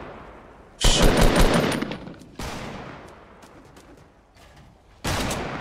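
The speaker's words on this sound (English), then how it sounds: "Try to shoot him." Bursts of automatic gunfire from a Fortnite battle royale match, one loud burst opening, a quieter stretch of distant shots, then another close burst near the end, with no talking.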